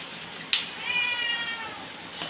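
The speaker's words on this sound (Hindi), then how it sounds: "देखो कैसे म्याऊं म्याऊं कर रहा है" A cat meows once, a clear, fairly close drawn-out cry that starts after a sharp tap and trails off, heard alone indoors.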